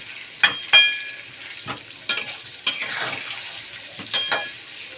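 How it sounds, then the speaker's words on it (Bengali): Potato pieces frying in oil with salt and turmeric, stirred with a metal spatula: a handful of sharp scraping clinks against the pan over a soft steady sizzle, close by. "এবার আলুগুলো ভাজবো।"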